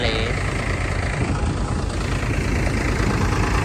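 A tractor engine idles steadily during farm threshing work, a low continuous rumble with a rough, even texture that holds without change throughout.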